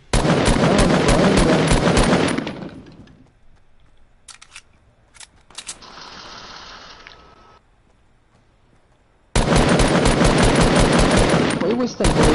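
Dense bursts of rapid automatic gunfire in a video game, loud and close, fill the opening seconds, then give way to a few sharp single shots and a quieter stretch before another long burst of firing.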